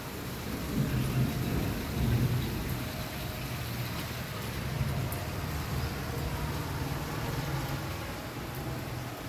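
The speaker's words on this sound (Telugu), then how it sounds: "అనుకోకుండా వర్షం వచ్చింది ఇవాళ అసలు." Steady rain falls with a continuous hiss, while a low, rolling rumble of thunder swells and fades beneath it throughout.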